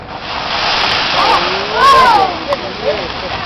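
A firefighter's demonstration in which a cup of water is thrown onto a burning fire sets off a sharp hissing splash and flare-up. The rushing burst is loud and continuous, with voices briefly audible over it.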